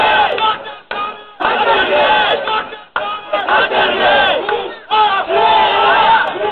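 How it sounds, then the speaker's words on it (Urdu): A large crowd at a political rally chants slogans in loud, rhythmic bursts, with a few short pauses between the chants. "لیکن لوگ نعرے لگا لگا کر انہیں اور چڑھاتے رہے"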